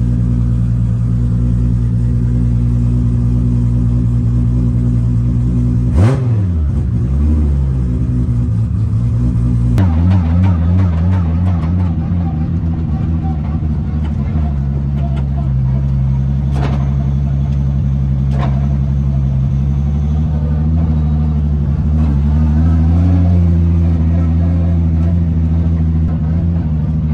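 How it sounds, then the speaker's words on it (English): Loud car engine during a test drive, heard as a heavy, continuous rumbling drone from inside, with pitch rising and falling as the engine revs and a few sharp clunks along the way. "Now we go for a test drive to make sure everything's working. Woo! Things so loud."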